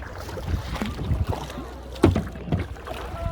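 Oars splashing and knocking as a small boat is rowed along a flooded street in Karachi, a few irregular close strokes and thumps with faint wind in the background.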